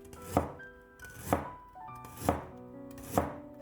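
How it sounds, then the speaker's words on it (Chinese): A knife cuts a piece of ginger into thin slices on a board with four firm, evenly spaced chops about a second apart, over soft background music. "1块生姜先给它切成薄片"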